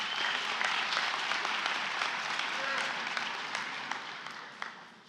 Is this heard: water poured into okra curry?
no